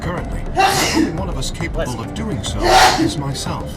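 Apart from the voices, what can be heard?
sneeze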